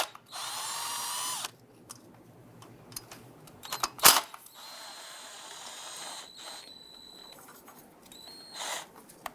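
Two 8mm bolts are loosened and removed from an intake bracket on a 1994-2004 Ford Mustang 3.8, giving a long buzzing power-tool run followed by a sharp clack and a few quieter ratcheting and rattling sounds, close up with no talk.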